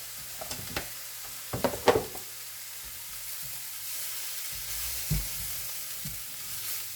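Ground spices including turmeric, coriander-cumin and Kashmiri chilli powder sizzling in a pan, with a burst of spatula stirring and scraping early on, then a quieter steady sizzle with an occasional clink.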